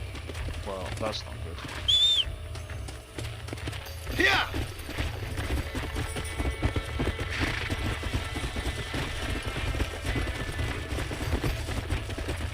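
Hooves clip-clop in a quick, rhythmic beat as a horse moves in Red Dead Redemption, with a brief whinny and a bird-like whistle near the start and voices talking over it.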